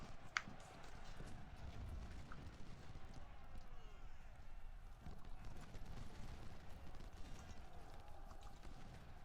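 Horses in a strategy video game clip-clop steadily at a gallop, a dense continuous patter of hooves mixed with crowd and battle ambience throughout.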